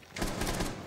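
A quick burst of rapid gunfire in Rainbow Six Siege on the Villa map, around five sharp shots in under a second, fairly loud and without talk.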